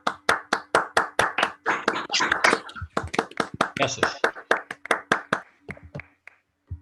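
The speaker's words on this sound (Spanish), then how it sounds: "demos un fuerte aplauso al expositor" Sparse clapping from participants at an online physics lecture on heavy baryon spectroscopy, heard through open microphones. Sharp, separate hand claps come in a loose rhythm and are mixed with murmured voices, with a short word of thanks spoken, before tapering off.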